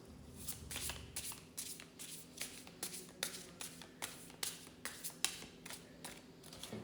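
A deck of tarot cards is shuffled by hand with a soft, rhythmic riffle of rapid card flicks, close but quiet, with no talking.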